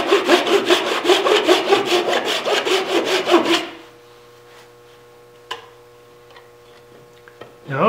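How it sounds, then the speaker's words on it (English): A Japanese pull saw cuts wood in a rapid run of rhythmic rasping strokes for several seconds, then stops, leaving quiet with a few faint knocks. "I've got a bunch of these Japanese saws, and they cut on the pull stroke"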